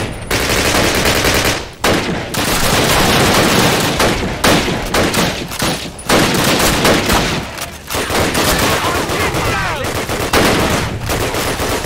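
Bren light machine gun firing in Call of Duty during the Operation Pegasus mission, loud sustained bursts of automatic fire broken by short pauses, close and dominant.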